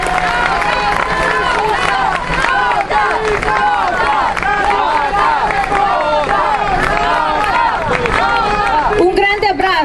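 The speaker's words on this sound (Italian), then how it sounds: "Quindi un grande applauso per questa importantissima battaglia di libertà." A large rally crowd at an Italian political demonstration claps and cheers for the NO TAV campaign, loud dense applause mixed with shouting voices and crowd babble that stays busy and close throughout.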